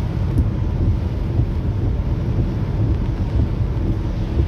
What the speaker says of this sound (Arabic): مع هبوب رياح وبرودة في الطقس